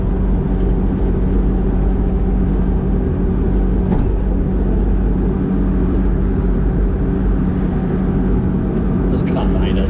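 Mini truck with a swapped Hayabusa motorcycle engine driving, a steady loud engine drone with road and wind rumble throughout, people talking over it.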